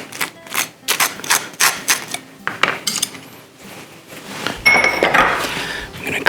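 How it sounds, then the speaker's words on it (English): A knife scraping and tapping on a toasted homemade bagel, crisp rhythmic scratches while butter is spread, close and fairly loud, followed by a brief clatter. "I am gonna butter"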